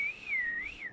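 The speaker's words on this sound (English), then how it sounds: "I can't whistle very well" A person whistles one wavering, sliding tone that rises and falls for about a second. It is clear and close, with no talk around it.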